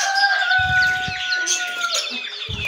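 A hen clucks and calls up close, with a drawn-out crowing note and short bursts of rustling or scratching in between.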